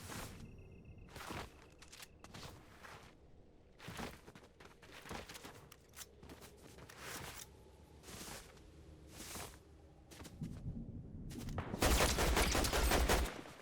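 Gunfire in the Fortnite Zero Build mode rings out as repeated sharp bursts and rapid volleys, fairly faint and distant, building to a denser, louder stretch at the end.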